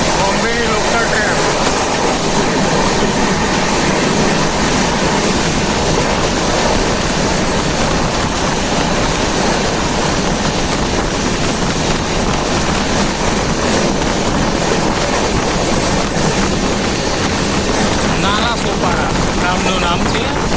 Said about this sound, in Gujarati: ટ્રેન સુપર સ્પીડમાં ભાગી રહી છે